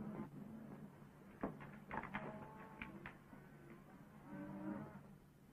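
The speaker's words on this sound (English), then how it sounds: "I never saw so many wild cows in my life." Cattle low and moo in an open-range setting, several calls rising at intervals over a steady hum, moderately close and alone without speech.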